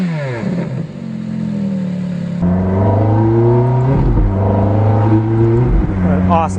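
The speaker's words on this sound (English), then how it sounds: "What an awesome sound. Well, obviously I'm out for a spin in the 430 Spider." A Ferrari F430 F1 Spider engine revs loud and close, its rising and falling harmonic tones climbing through several throttle blips while driving, with no talk over it.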